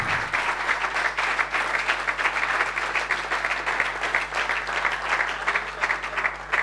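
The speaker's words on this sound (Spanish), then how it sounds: "un aplauso para ellos, que están aquí" Sustained applause from an audience at a municipal sports awards gala, a dense, even wash of many hands clapping throughout, loud and fairly close, with no speech over it.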